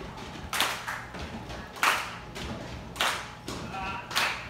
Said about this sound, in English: Repeating that pattern. 2 stamps. 1 clap.